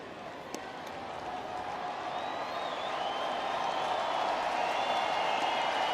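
A baseball crowd at Comerica Park, Detroit Tigers hosting the New York Yankees, murmurs and claps in a broad, distant roar that swells steadily, with a single sharp crack early on.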